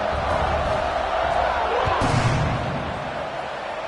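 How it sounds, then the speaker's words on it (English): Stadium crowd at a football game buzzing after a touchdown, a steady wash of distant cheering and chatter with a brief swell, loud and continuous. "this crowd is buzzing after that last score"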